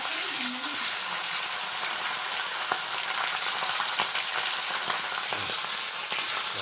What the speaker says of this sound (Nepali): यसरी टक्कै कम्ती तेलमा टक्क फ्राई गर्नु छ, मजाले यो हुन्छ यसरी।